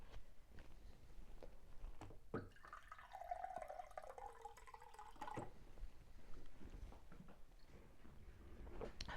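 A small amount of water is poured from about 2.4 to 5.4 seconds, a soft close trickle, with faint drips before and after in a quiet room.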